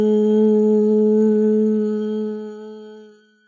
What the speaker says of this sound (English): There are some really easy ones like Om,